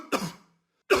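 Two sharp, close coughs, the first with a short trailing tail, the second starting just after a brief silence.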